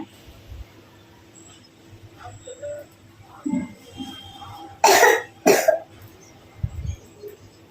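Two loud, close coughs from a sick child burst out in quick succession, with a few softer hacks before them in a quiet room.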